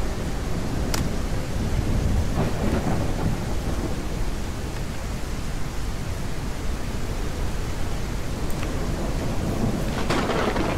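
Thunderstorm in the Ranch Simulator video game, with steady heavy rain hiss and rolling thunder, plus a few sharp lightning cracks near the start and end, without any talk.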